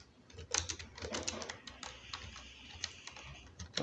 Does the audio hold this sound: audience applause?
no